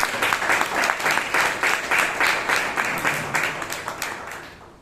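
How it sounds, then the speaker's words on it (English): Audience applause at a Toastmasters club meeting in Bangalore, steady dense clapping from a room of people that holds for about five seconds and slowly tapers toward the end. "Please give them a big round of applause."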